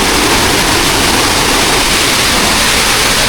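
A waterfall roars as a loud, unbroken wash of rushing water, dense and steady throughout with no voices.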